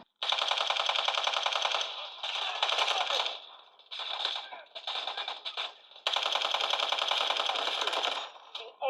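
Rapid bursts of automatic gunfire in a shooting video game, played on a phone, crackle in long and short volleys, sharp and bright, with brief pauses between strings of shots.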